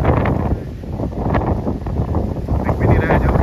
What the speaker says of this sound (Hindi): वो देखिए झरना